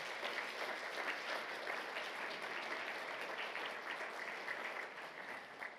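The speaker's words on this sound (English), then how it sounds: "So give yourselves a round of applause." Sustained applause from a conference audience at an undergraduate communication research event, a dense, steady wash of many hands clapping at even loudness for several seconds.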